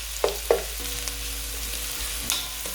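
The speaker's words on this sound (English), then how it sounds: "The aromas when you're frying these together are something else." Potatoes and sausage sizzle quietly in a pan, with a few sharp clinks as they are stirred. No one speaks.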